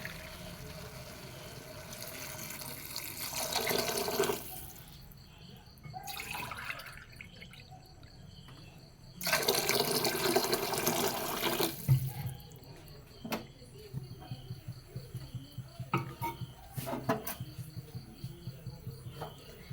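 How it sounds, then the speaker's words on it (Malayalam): Water pours into a pot of rice for vegetable biryani in two close bursts, separated by quieter stretches of light clinks and drips. "രണ്ട് കപ്പ് വെള്ളം നമ്മളിതിൽ ചേർത്ത് കൊടുക്കണം"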